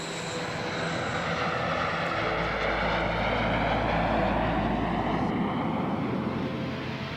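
A NASA T-38 jet trainer flies past as a steady, loud, broad roar that swells slightly in the middle and then eases, with no voices.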